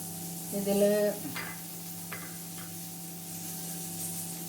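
Salted green chillies for pickle are stirred in a pan, giving a soft sizzle and a few scraping strokes against a steady background hum, fairly quiet.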